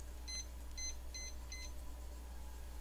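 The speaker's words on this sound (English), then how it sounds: "Now you're gonna hear beeping." Four short, faint electronic beeps ring out in quick succession indoors, each a thin, high tone, over a steady low hum, then only the hum remains.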